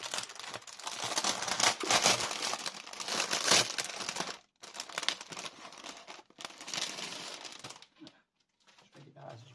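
Paper packaging around Alchemy of Art rice paper sheets crinkles and rustles in close bursts of crackling handling, pausing briefly, then fading to quiet with a soft voice near the end.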